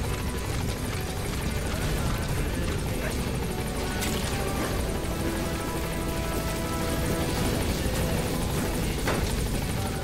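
A helicopter in Metal Gear Solid V: The Phantom Pain drones loudly and steadily, its rotor and engine noise filling the scene without pause.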